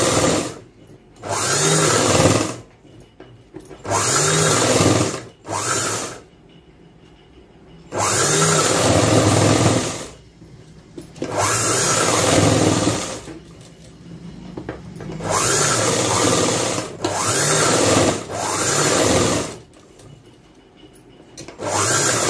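Sewing machine stitching blouse fabric and lining in repeated bursts of a few seconds each, separated by short pauses, close and fairly loud with no talk.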